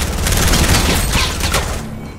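A burst of explosive rocket launcher fire in the video game Fortnite, dense rumbling blasts and crackling detonations filling the brief moment loudly, then tapering off at the end.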